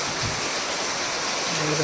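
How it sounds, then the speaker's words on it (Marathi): Heavy monsoon rain pours steadily in a green hill village, a dense continuous roar with no break. "खूप पाऊस पडतोय पाऊस आहे"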